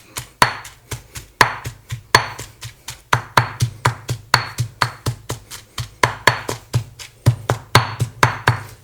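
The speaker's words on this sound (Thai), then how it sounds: "โขก เนื้อปลาดุก ย่างเนี่ยหรือเนื้อปลาเนี่ยถ้าเรามาโขกมันจะฟูขึ้นมา" Grilled catfish meat pounded in a mortar for a spicy fermented-fish chili dip, steady repeated thuds at a brisk, even rhythm, close and fairly loud with no talk.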